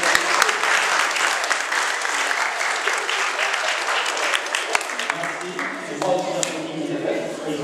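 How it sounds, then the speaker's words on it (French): An audience at a school science day applauds students' presentations, loud continuous clapping from a crowd in a hall that holds steady, then thins slightly toward the end. "Je vous applaudis tous pour tout le travail que vous avez fait."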